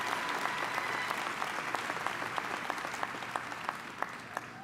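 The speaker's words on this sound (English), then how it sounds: "So please give a big round of applause to all these individuals." Steady applause from a commencement audience at a dental school graduation, a dense continuous patter of many hands clapping throughout, fairly close and even in level.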